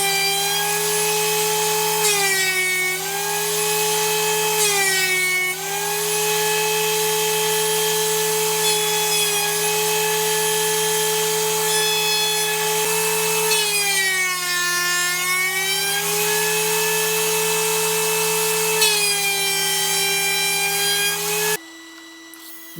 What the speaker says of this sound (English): I'm going to have to face joint them before I can run them through the thickness planer